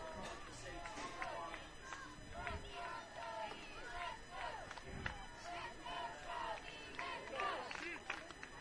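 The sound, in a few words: crowd cheering at youth baseball game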